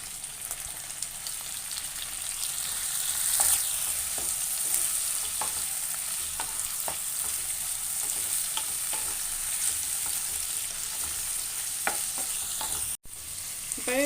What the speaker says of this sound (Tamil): இப்போ தக்காளியை போட்டுக்கிறோம்.